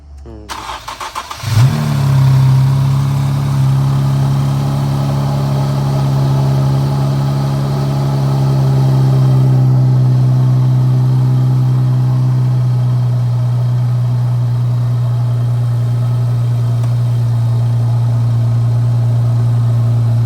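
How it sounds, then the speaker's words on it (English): A 2017 Infiniti Q60 AWD engine cranks briefly, catches, and settles into a steady low idle that runs on loudly and close for the rest of the clip. "I'll start it up."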